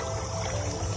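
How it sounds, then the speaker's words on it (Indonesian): Tap water running steadily over a plastic face shield as it is rinsed clean, a continuous close splashing pour with no talking. "Air mengalir aja"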